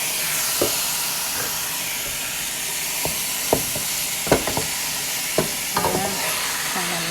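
Ground beef seasoned with adobo frying with onions in a pan, a steady close sizzle broken by occasional sharp clicks of a utensil stirring the meat.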